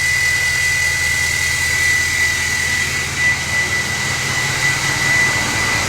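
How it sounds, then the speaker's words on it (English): A loud, steady roar of a revving Duramax L5P diesel pickup engine with a new turbocharger's whine, constant and close, resembling a jet engine, with no one talking. "the new turbocharger really changes the sound of this truck too"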